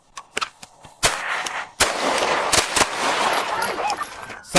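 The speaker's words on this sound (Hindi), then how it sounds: "गोलियां चलाना।" Rapid gunshots crack out in bursts during a Chicago police shootout with a carjacking suspect, loud and close, with scattered single shots first and then a dense volley, and voices shouting in between.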